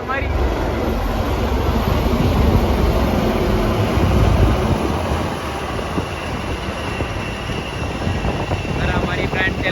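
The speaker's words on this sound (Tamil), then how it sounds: "ஏரோப்ளைன் முடிச்சு ஹெலிகாப்டர் நடந்துட்டு இருக்கு" Air Force helicopter flying over Chennai Marina Beach during an air show, a loud, continuous rotor roar and rumble, with crowd voices chattering underneath.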